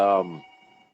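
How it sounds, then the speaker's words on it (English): A telephone gives one short, loud ring indoors during a conversation, and the tone fades away within a second. "telephone's ringing"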